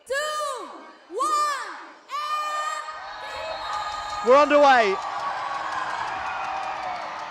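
A home crowd at a football final between Indonesia and Iran whoops and cheers in rising, wavering bursts, loud and close, with a commentator speaking over the noise as play gets underway.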